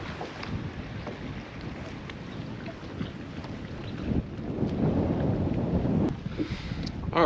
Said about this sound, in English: The wind is just a killer. You can probably hear it.